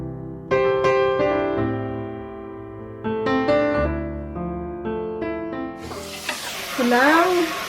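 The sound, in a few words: stirring garlic frying in pan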